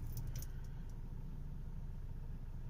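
A 2019 Tata Harrier's engine idles with a low, steady, quiet hum heard close by, accompanied by a few light metallic jingles early on.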